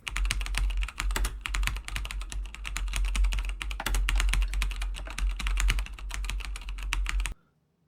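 Rapid, steady keystrokes on a computer keyboard plugged into a Samsung Galaxy S3 phone clatter nonstop for about seven seconds, close and clear, then stop abruptly.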